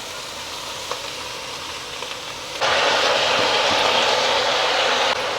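Amaranth leaves (thotakura) go into a pan of tomato curry while cooking on a rooftop terrace; a soft steady hiss jumps abruptly to a louder, dense sizzle halfway through and holds there.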